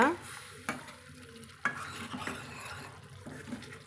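Egg thokku gravy stirred in a pan: a spoon scrapes and taps the pan a few times over a soft sizzle, the sharp strokes standing out near and fairly quiet.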